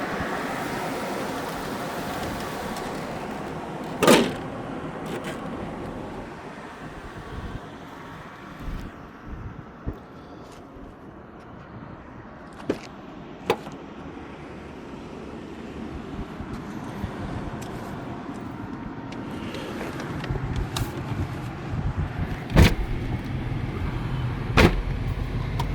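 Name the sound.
1999 Cadillac Eldorado coupe driving on a ride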